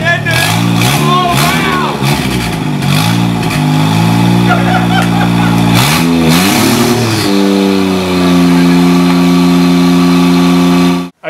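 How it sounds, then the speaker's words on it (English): Modded show car engine cranking, catching and revving hard, with rising and falling engine pitch swells before settling into a loud, steady idle, while excited voices shout over it. "Okay, so the car actually starts."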